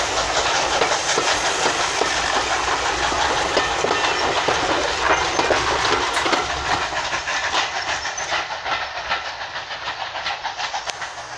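A double-headed heritage train, steam locomotive 76084 leading, rolls past Sheringham West level crossing with a loud, steady roar of wheels, rhythmic clickety-clack and hissing steam, close by and gradually easing.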